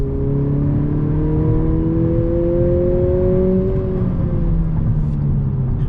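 A 2020 Honda Civic Si sedan in sport mode pulls through the gears, its exhaust droning with rising then falling engine tones, a loud steady rumble from inside the car.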